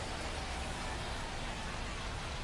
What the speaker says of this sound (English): We're coming right up against it with the way this rain is coming down